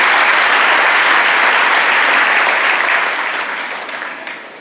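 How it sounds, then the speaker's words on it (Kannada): An audience at a swamiji's coronation ceremony claps loudly in sustained applause that holds steady and then gradually fades toward the end. "ಅವ್ರಿಗೆ ಚಪ್ಪಾಳೆ ತಟ್ಟೋಣ"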